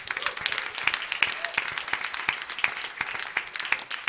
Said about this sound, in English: Can we give a clap to the Lord?